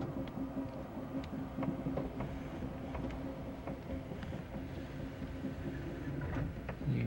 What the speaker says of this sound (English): the train is moving rather slow